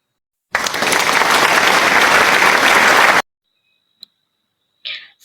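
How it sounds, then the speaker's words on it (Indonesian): Classroom of chemistry students applauding a classmates' discussion group, a dense burst of clapping for about three seconds that stops abruptly, followed by a couple of small isolated clicks. "Ayo beri tepuk tangan dulu atas hasil diskusi kelompok 3."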